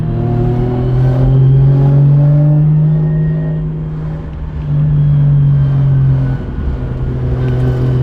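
A Toyota JZX100 Chaser with a turbo and very loud exhaust revs and holds a droning exhaust tone, dips briefly, then revs up again, close and sustained.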